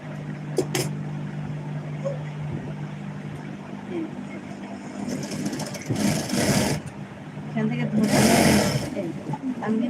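A sewing machine stitches together the two sides of a garment pocket, its motor giving a steady close whir with a couple of louder, harsher bursts near the end, while a voice talks faintly in the background.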